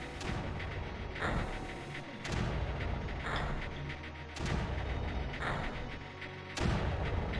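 Mortar fire in the Creeper World strategy game booms repeatedly, with heavy thuds landing every second or so over a steady rumbling background and no talking.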